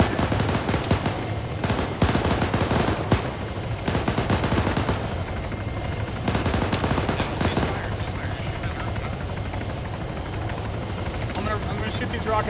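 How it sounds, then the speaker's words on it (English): Gunfire in a military video game with a Huey helicopter: loud machine-gun bursts and scattered shots rattle over the steady drone of helicopter rotors, with heavy fire early, then gaps and a few more bursts over the continuous engine noise. "Taking fire from the south."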